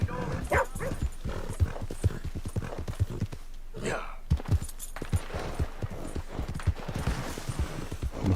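Horse hooves clip-clop steadily in Red Dead Redemption 2 as a steady, even rhythm of hoofbeats that runs beneath someone talking over the gameplay.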